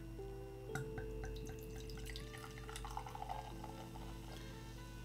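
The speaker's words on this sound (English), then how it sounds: "But we are going to get a pour going." Kopparberg cider being poured into a glass, with soft splashing and trickling liquid against a steady background hum, close and fairly quiet, no one speaking.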